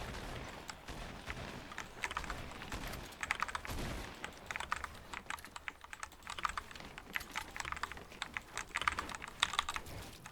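Rapid clattering keystrokes on a computer keyboard, irregular bursts of typing throughout, close and crisp.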